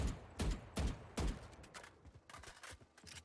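Gunshots in Valorant, fired as taps at a target while strafing back and forth: about four loud sharp cracks spaced evenly, then quicker, fainter shots with a sharp clatter.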